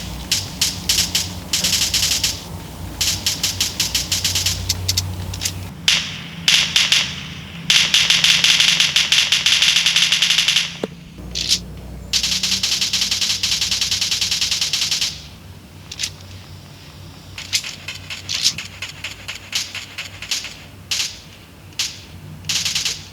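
Busy first-person shooter game audio heard through ZMI Purpods Bluetooth 5.2 earbuds in game mode, with rapid mechanical clicks, rattling weapon handling and crackling bursts, continuous and close throughout.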